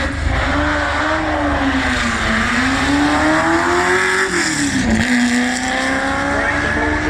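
A Ford GT40 race car climbs the Kop Hill hill climb, its engine note rising and falling as it accelerates and shifts, loud and close throughout.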